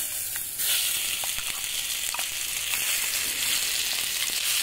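Ground pea mixture sizzling and frying in hot mustard oil in a kadai, a continuous close crackle with small pops and scraping stir sounds, no talk.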